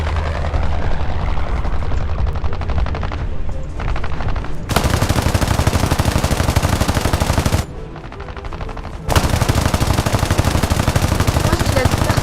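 Sustained machine-gun fire from an aircraft gunner in a flight video game rattles loud and close in long bursts, pausing twice, over a droning engine.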